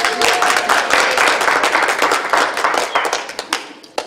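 A conference audience applauds at the end of the final session. The clapping is dense and steady at first, then thins out into scattered individual claps over about four seconds.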